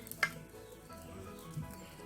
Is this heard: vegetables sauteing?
yes